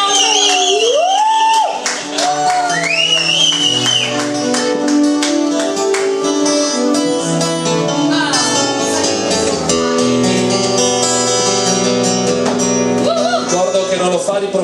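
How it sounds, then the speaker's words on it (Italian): A live crowd at an April 2014 show applauds and cheers for special guest Francesco, with sustained clapping, scattered whoops and shouts layered over music and voices for about fifteen seconds. "con special guest, un applauso a Francesco."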